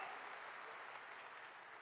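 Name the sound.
applause, audience clapping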